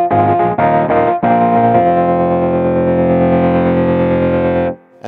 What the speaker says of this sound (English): Amp simulator.